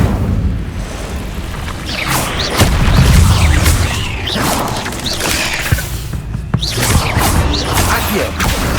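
The Incendio fire spell is cast in the Hogwarts Legacy video game, bursting with booming whooshes and crackling impacts amid dense, loud combat effects.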